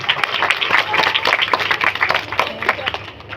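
Audience applause during a motivational speech, a moderate crowd clapping with distinct, uneven hand strikes that gradually thin out toward the end, with some voices mixed in.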